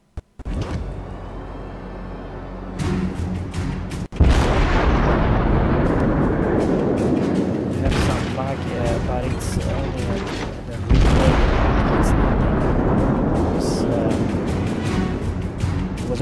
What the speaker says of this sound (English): Over here I see this enemy destroyed, and I try to shoot him now at this long range.